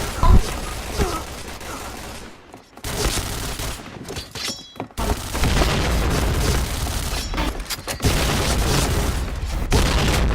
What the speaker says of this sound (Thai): โอ้เหี้ยมาจากไหนระเบิด